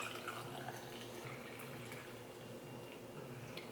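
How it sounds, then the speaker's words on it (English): Hot water pours steadily into a cup of loose tea for steeping, a faint, continuous splashing trickle heard close and alone for a few seconds. "So let's pour in our water"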